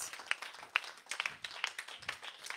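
A church congregation claps in a loose, steady rhythm. Crisp, moderately close hand claps land about twice a second over a soft background of room noise.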